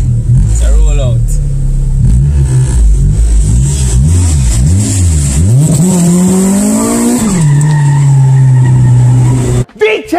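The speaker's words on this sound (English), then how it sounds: "VTEC just kicked in," A car engine revs hard and climbs in pitch as the VTEC stage engages, loud and close, with a sustained high rev near the end; voices talk over it throughout.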